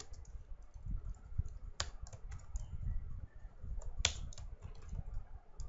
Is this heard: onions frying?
no